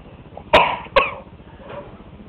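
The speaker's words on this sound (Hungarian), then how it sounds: "Köhögj." A child coughs twice on request during a medical examination, two sharp close coughs about half a second apart in a quiet room.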